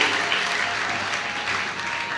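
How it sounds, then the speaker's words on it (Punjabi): A church congregation applauds a correct quiz answer, producing steady, dense clapping from many hands that fills the room at an even level throughout. "ਜ਼ੋਰਦਾਰ ਤਾੜੀਆਂ ਸਰ ਵਾਸਤੇ"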